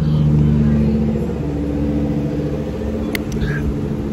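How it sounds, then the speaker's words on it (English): A Lamborghini sports car drives past on a Somerset road, its engine a loud steady rumble that swells and eases, with a few brief sharp higher sounds near the end. "That was a Lamborghini."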